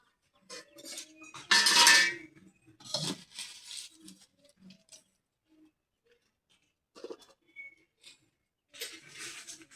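A pot of khichuri set down on a kitchen stove, with clattering metal clinks and scrapes in a few short bursts, loudest near the start, then quieter knocks spaced apart.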